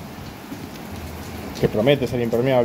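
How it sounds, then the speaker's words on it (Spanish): Heavy rain pours down steadily during a downpour, a dense hissing wash throughout, with someone speaking over it in the second half. "está lloviendo y muy muy fuerte"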